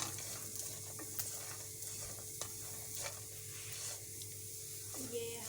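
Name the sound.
nuts frying in butter in a frying pan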